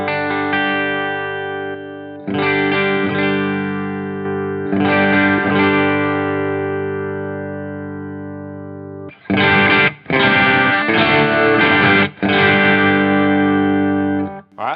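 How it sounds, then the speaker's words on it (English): An electric guitar through a Headrush unit with a Black Op drive pedal set for low gain rings out sustained, lightly overdriven chords, then switches to choppier, denser strummed chords near the end, with no speech. "let's just add in a black op. We'll do like a low gain kind of thing."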